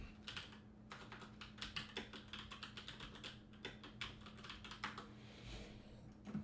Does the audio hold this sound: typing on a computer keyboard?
yes